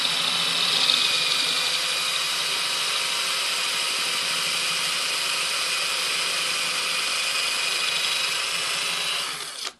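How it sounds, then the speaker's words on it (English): A power drill bores straight through a Ford Falcon XF car door handle, making a steady, close, high-pitched whir that runs unbroken for nearly ten seconds and then cuts off abruptly. "And then just drill right through."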